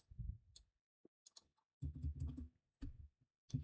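Scattered bursts of typing on a computer keyboard while entering network switch configuration commands, quiet irregular clusters of key clacks separated by short pauses.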